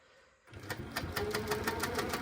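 Sewing machine stitching a quilt patch for a Christmas countdown quilt, starting after a brief quiet moment with a steady, close run of rapid needle beats at even pace.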